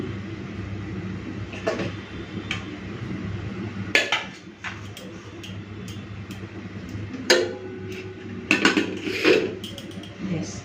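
Rice being served onto a plate at home, with spoons and dishes clinking: scattered light metallic taps and clinks, fairly soft and close, over a low steady hum.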